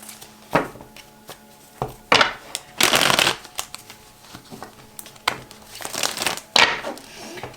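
Tarot cards shuffled by hand at close range, a series of quick riffling bursts separated by short pauses, with soft taps and slides of the deck in between.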